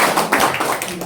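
Audience clapping for farmers at an agricultural extension centre launch event in Cirebon, a dense, steady patter of many hands filling the whole moment without pause.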